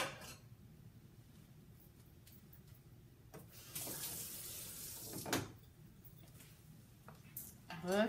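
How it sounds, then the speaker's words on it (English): Water runs into a sink in a short, moderate gush that rises and falls over a few seconds amid quiet room noise and small handling sounds. "I'm going to put this in my sink real quick"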